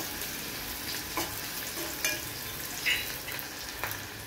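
Onion sautés in oil with roasted cumin seeds over a medium gas flame, giving a steady soft sizzle with a few light stirring scrapes at intervals and no voices.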